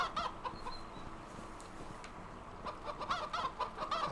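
Chickens in a village in the video game Divinity II cluck and chatter in short, irregular bursts, several birds close by and fairly quiet, with no talk over them.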